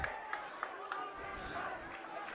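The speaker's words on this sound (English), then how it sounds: "Comet crowd getting loud" Home football crowd at a high school game grows louder before a third-down play, a distant roar of cheering and yelling with a few sharp shouts, heard under the noise of the stands.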